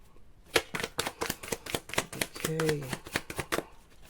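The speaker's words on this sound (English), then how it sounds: "Let's go quick shuffle." Tarot cards are shuffled quickly by hand, a close, rapid run of crisp slapping riffles, with a brief spoken word in the middle.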